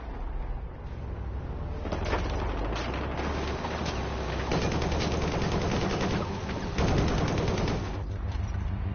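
Sustained machine gun fire in the video game Battlefield Hardline, a dense, continuous rattle of rapid shots with bursts and brief pauses, loud and close throughout with no talk over it.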